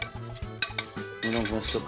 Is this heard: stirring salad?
yes